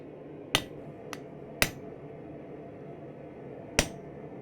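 A hammer drives a steel punch into a hot steel stem while forging a metal leaf bottle opener, giving four sharp ringing strikes at uneven intervals, one of them lighter, over a low forge hum.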